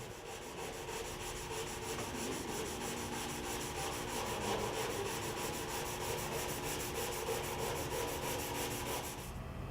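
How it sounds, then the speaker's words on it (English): Steady, close scratchy rubbing of a sanding sponge against the edge of a primer coat, continuous and even throughout with no talk. "Sand the edge of the primer coat with a sanding sponge."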